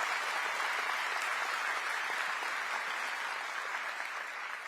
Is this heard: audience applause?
yes